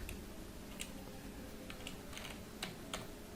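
Quiet, uneven taps on a computer keyboard while someone writes PHP code, with isolated keystrokes scattered over a faint background hum.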